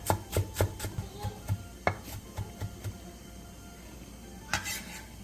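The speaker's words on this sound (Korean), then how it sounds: "대파 조금을 쫑쫑 썰어주세요." Rapid knife chops slicing green onion on a cutting board, a quick series of crisp close taps in uneven bursts, then a pause and a final few cuts, with no voices.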